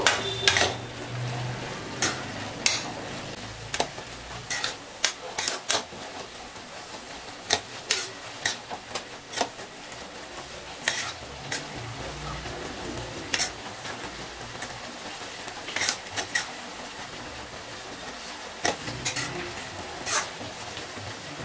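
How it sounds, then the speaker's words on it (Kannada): Onion and tomato fry in a pan for palak chicken, with a steady soft sizzle beneath frequent sharp clicks and scrapes of a utensil stirring against the pan, fairly close and without talk. "ಇವಾಗೆಲ್ಲ ಆನಿಯನ್ ಮತ್ತೆ ಟೊಮೊಟೊ ಎಲ್ಲ ನೀಟಾಗಿ ಫ್ರೈ ಆಗಿದೆ"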